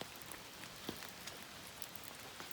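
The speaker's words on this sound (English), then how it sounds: "A little wet and rainy, but not as bad as yesterday." Light rain on a morning along the Appalachian Trail, a faint, steady patter of drops on surfaces with occasional slightly louder taps, no voices.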